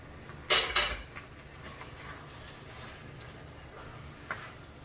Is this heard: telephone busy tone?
no